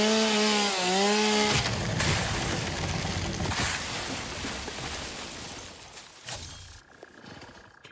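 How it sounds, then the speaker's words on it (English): A chainsaw cutting down trees in Satisfactory, the engine whining and revving at the start, then dropping into a rough, grinding cut that trails off toward the end. "Chainsaw wielding maniac!"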